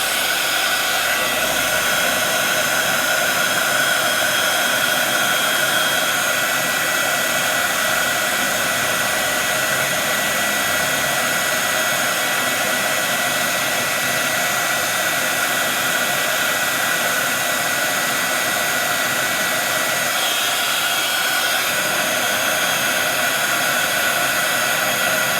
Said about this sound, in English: Mind your fingers underneath here, these heat guns do get warm.